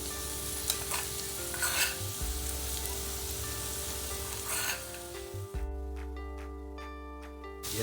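Ingredients for masala chitranna sizzle and crackle in a hot pan while being stirred, with scraping stir strokes over steady close frying and a slight drop partway through.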